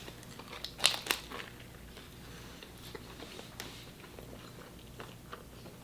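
A crunchy barbacoa taco from a Disney Springs food truck is bitten with two sharp, close crunches, then quieter, scattered chewing sounds fade over several seconds.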